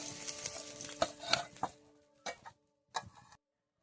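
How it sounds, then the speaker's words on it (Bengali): Fish pieces sizzle in hot oil in a pan, crackling in uneven bursts that thin out, leaving short spells of near silence between the last spatters. "বাকি মাছটা এরম ফেলে ভেজে নেবো"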